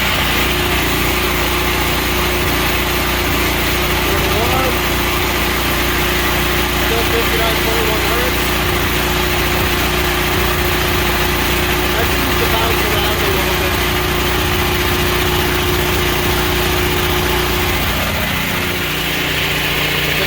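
A Wen portable generator runs steadily under an air conditioner load, its loud, constant engine drone continuing for the full stretch, with a slight dip in pitch near the end and a voice talking over it.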